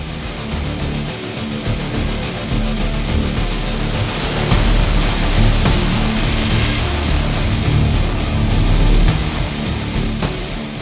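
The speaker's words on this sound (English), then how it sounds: "This is Seljalandsfoss. This waterfall drops 197 feet." The Seljalandsfoss waterfall in Iceland, which drops 197 feet, gives a loud, dense, continuous roar of falling water that holds steady for the whole stretch, and no voices are heard.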